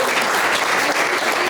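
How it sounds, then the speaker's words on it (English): Loud, dense applause fills a short stretch during a talk by Dr Steven Pelech, with continuous clapping from a crowd and no voices. "Applause"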